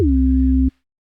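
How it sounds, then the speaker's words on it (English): A steady, pure electronic sine tone from a synthesizer oscillator holds for well over half a second, then cuts off abruptly into silence. "It's going to have a sine wave."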